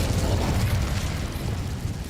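An Incendio fire spell cast in a magic video game, a dense roaring burst of flame and crackle that holds strong for about two seconds without fading.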